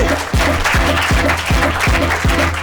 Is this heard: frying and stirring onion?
no